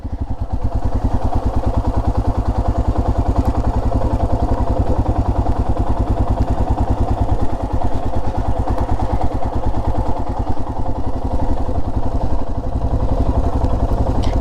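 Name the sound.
motorcycle riding in third gear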